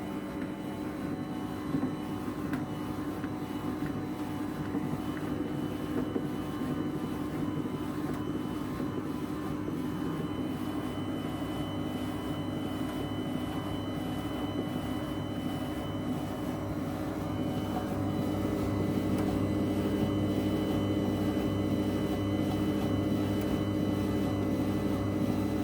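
An Optimum Mamma 5-in-1 pasta maker with the penne attachment fitted, mixing dough in a steady, droning motor hum with faint rhythmic mechanical rattling, continuous and close for the whole stretch.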